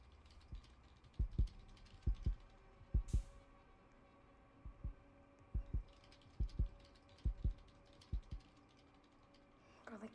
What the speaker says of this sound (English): I keep hearing my heart beating.